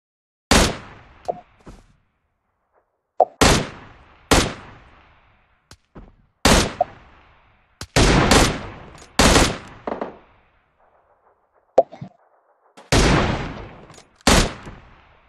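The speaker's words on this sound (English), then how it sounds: "Somebody shooting me." Gunfire in the mobile game PUBG Mobile: sharp bursts of rapid automatic shots and single cracks, spaced irregularly with short silences between, loud and close.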